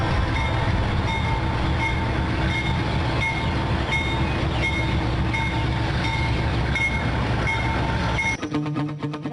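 A train at San Bartolomé station on the Central Andean Railway rumbles steadily and loudly for several seconds, a constant dense mechanical roar with faint tonal hum, ending with a sudden shift near the close.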